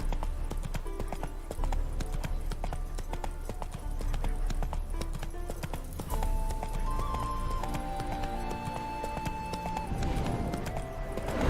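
Hooves clip-clop in a steady trotting rhythm in The Witcher 3: Wild Hunt, close and continuous, with a faint whinny and soft musical tones underneath.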